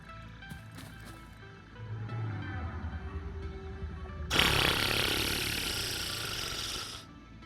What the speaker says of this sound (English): Oh, you're stuck on a lawnmower.